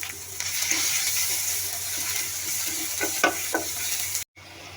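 Spice paste of turmeric, chili, cumin powder and green chili fries with potatoes and olives in a pan, a steady close sizzle with scraping stir strokes, ending in a brief dropout.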